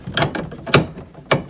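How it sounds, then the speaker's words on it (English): A Phillips head screwdriver turns a screw on a TV mount in short ratcheting bursts, three distinct clicking pulses close by with quieter turning between them. "We'll tighten this screw up."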